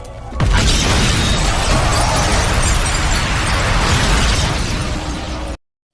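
A loud, roaring explosion bursts in and rumbles on with crackling debris for several seconds, then stops abruptly.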